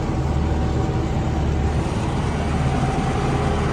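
A tractor works a cultivated field being sown with sunflowers and fertilizer, its engine a steady, loud, close drone that holds unchanged throughout with no talk over it.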